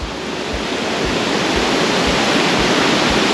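Heavy waterfall at Nelson Falls in rainy western Tasmania, a loud, steady broadband roar of falling water that fills the whole clip with no voices.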